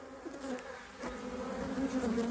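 Queenless nurse honey bees with no comb inside a closed hive give off a continuous, fairly faint buzzing hum, steady and alone.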